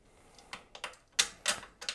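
A bolt is fitted onto a Shimano XT 4-piston BR-M8120 brake: a handful of sharp, close metallic clicks and taps at an irregular pace, with quiet pauses between them.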